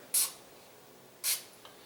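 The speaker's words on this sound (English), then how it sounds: "if you just take a little cooking spray" Cooking spray is sprayed onto a knife blade in two short, bright hissing bursts about a second apart, close and fairly quiet, with near silence around them.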